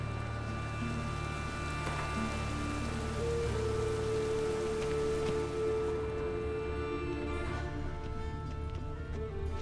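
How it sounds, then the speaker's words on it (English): Steady rain pattering on a surface, with a low sustained hum and faint tonal drones underneath; continuous and moderately loud throughout. "Raining again."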